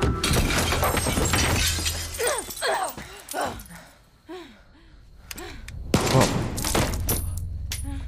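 Gunfire in the video game Far Cry 6, loud sharp bursts of shots at the start and again later, with wailing, rising-and-falling vocal cries in the quieter stretch between.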